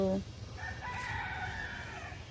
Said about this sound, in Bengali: মুরগি ডাকে মুরগি দেখুন প্রকৃতির কি সৌন্দর্য